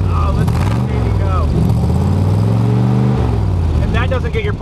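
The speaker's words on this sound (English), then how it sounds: "have them rev it a bit so you can hear the side pipes" A 1966 Chevy Corvette big-block V8 revving through side pipes, loud and close, with repeated throttle blips rising and falling over a rumbling idle; voices talk faintly beneath it.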